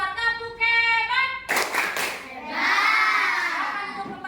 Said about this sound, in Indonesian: Kasih tepuk hebat untuk kelompok 2.